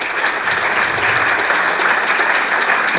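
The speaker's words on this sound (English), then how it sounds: "So I want everyone to give them a big round of applause," Dense, steady applause fills a summit hall, a loud close wash of many hands clapping without a break for the full three seconds.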